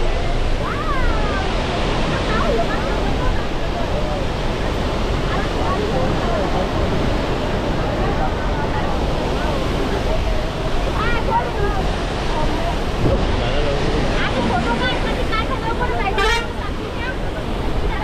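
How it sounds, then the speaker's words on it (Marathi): Waterfalls and wind at Bhandardara dam, a loud continuous rushing roar mixed with gusty wind buffeting the microphone, while people talk over it. "तर इथे धबधबे आणि हवा तुम्ही पाहू शकता."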